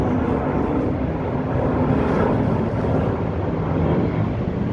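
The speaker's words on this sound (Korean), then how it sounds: "제주에어 비행기가 날아가고 있습니다." A Jeju Air airplane passes overhead near the seaside, a loud, steady broadband roar with wind buffeting the microphone, continuous throughout with no talk.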